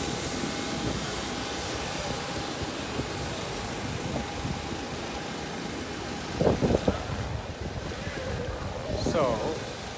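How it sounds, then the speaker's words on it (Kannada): A Mango airline passenger jet heard at the Cape Town airport, its engines giving a steady broad roar throughout, with a couple of brief louder bursts near the end. "ಮ್ಯಾಂಗೋ ಅಂತ ಈ ವಿಮಾನದ ಹೆಸರು."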